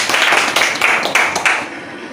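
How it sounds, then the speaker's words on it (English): A classroom of students claps together in steady, fairly loud rounds of applause that last the whole moment and fade slightly toward the end. "Clap our hands."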